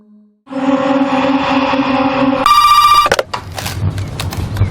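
A telephone rings loudly in a horror film scene, a steady electronic ringing tone that shifts pitch partway through before cutting off, followed by a brief burst of other noise.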